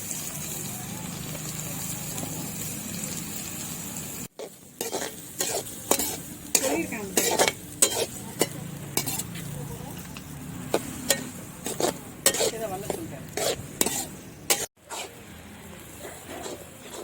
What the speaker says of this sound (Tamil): பொடி பொடியாக வெட்டின வெங்காயம், கருவேப்பிலை போட்டு நல்லா வதக்க வேண்டியதான்.